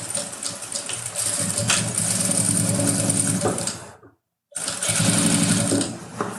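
A sewing machine stitches fabric in a steady, close mechanical run, stops briefly, then resumes for a short reverse backstitch, loud and without talk.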